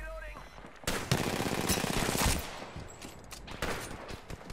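Gunfire in the Apex Legends video game, including a Lobo weapon, with bursts of shots and sharp cracks cutting in and out over a few seconds at moderate loudness.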